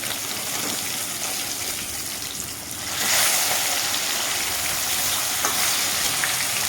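Rohu fish pieces frying in hot oil in a pan, a steady close sizzle that swells louder midway and keeps crackling without any talk.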